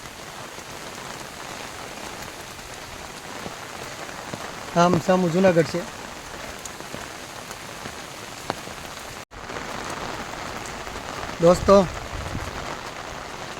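Heavy rain falls steadily on surfaces around the paths of Uparkot Fort in Junagadh, a constant hiss throughout, with someone speaking briefly over it twice.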